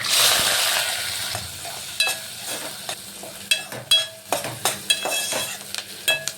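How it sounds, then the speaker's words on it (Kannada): Onions fry in oil with mustard seeds, green chilies and curry leaves for a tomato chutney, with a steady close sizzle at first and then a series of scraping, knocking stirs against the pan. "ಆನಿಯನ್ ಫ್ರೈ ಆಗಿರೋದು ಸಾಕು"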